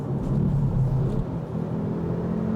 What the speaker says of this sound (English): And the best bit about this engine is just listen to this.